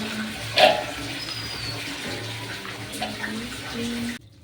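Tap water runs steadily into a container in a domestic kitchen, a continuous splashing flow with a brief louder splash near the start, cutting off abruptly at the end.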